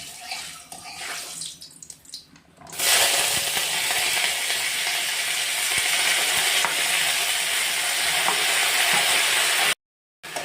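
Bitter gourd (karela) going into hot oil in a wok. A few seconds of running water give way to a loud, steady, close sizzle that continues until a brief dropout near the end.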